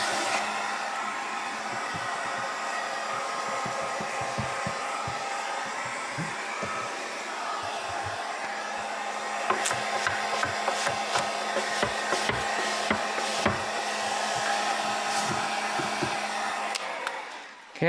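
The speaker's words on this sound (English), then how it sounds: "take the heat gun, get it about a foot away, and it still makes the vinyl relax a little bit" A heat gun blows steadily while softening 3M Di-Noc vinyl architectural film on an office desk, a continuous airy roar running throughout, with scattered taps and rubbing knocks from handling the film in the second half.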